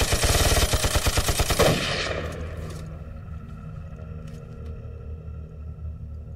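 Rapid bursts of automatic gunfire from a war film firefight, loud and close for about two seconds, then dying away into a low rumbling background with faint distant echoes.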